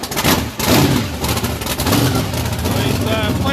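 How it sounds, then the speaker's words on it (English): A race car engine in the pits at a European championship event fires up and runs loud and rough, with revs rising and falling while voices carry faintly underneath. "he's going to be starting the engine up"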